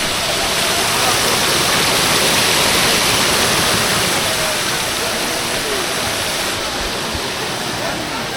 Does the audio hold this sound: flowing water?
yes